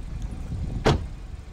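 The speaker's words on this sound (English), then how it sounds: "Then we'll proceed to shut the door." A single solid thump of a car door slamming shut, fairly close, against a quiet background hum.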